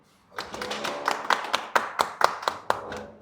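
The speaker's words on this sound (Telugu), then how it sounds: "చప్పట్లు" A small group claps in an office, a few seconds of fairly close, uneven hand claps with distinct sharp individual strikes, no talking.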